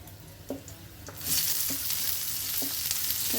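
Onions sizzle on a tawa over a low flame for a masala egg fry, the frying swelling suddenly louder midway as they hit the hot pan, with light stirring taps, close up and without talk.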